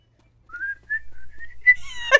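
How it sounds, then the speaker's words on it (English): A melodic whistle from a modded video game rises and sustains in a few short phrases, fairly close and clear, ending with a brief burst of brighter tones. "I just keep hearing the whistle."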